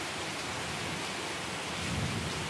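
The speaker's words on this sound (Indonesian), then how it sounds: "Hujan masih mengguyur deras, memburamkan kaca jendela bas yang melaju tanpa arah." Heavy rain pours down in a dense, unbroken wash while thunder rumbles low beneath it, swelling slightly toward the end, with no voices.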